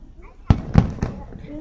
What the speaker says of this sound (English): that fireworks were made to look like shooting stars, right?